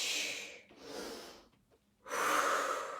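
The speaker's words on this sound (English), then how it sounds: "I'm kind of exaggerating that breathing, making sure you're not holding your breath." Heavy, exaggerated breathing during a workout exercise: loud forceful exhales and inhales in close succession, a brief pause, then another strong breath, close up with no speech.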